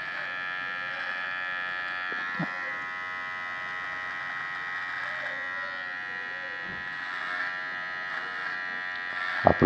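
An electric hair clipper buzzes steadily up close while trimming straight lines on a haircut, a constant whirring hum with brief changes in pitch as it meets the hair.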